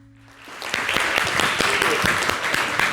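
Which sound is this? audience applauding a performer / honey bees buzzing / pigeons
audience applauding a performer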